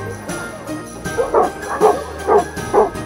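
Dogs at a golden retriever café bark and yip in a quick run of four or five loud, evenly spaced woofs indoors, with faint whimpering beneath.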